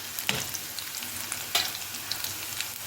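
Crushed garlic frying in hot oil for a Tamil anchovy thokku gives a steady close sizzle, with a few sharper crackling bursts rising above the constant hiss.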